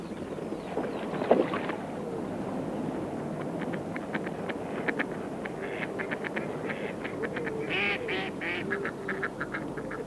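Ducks quacking on the water of a duck decoy pipe at Nacton, a scattered run of short, fairly faint quacks over steady outdoor background noise, with no one talking.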